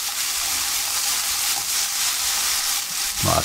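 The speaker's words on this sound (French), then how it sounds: "on va snacker nos Saint-Jacques" Scallops searing in a hot frying pan, a steady, loud, broad hiss of sizzling that fills the whole moment without a break, with a brief stronger crackle near the end, close up and with no voices.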